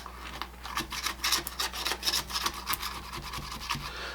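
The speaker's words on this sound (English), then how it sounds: "I got my little spatula here. We're going to loosen the sides a little bit." Spatula scraping around the sides of a pan of blueberry pie bars, a rapid series of soft rasping strokes, close and quiet, with no talking.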